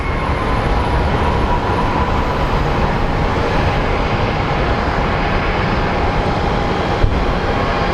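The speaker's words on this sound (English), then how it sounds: "To me, that looks like a Frontier Airlines. It's just landing." A Frontier Airlines jet landing at Sky Harbor International Airport sends out a loud, steady, broadband engine roar that stays constant and close throughout, with no voices over it.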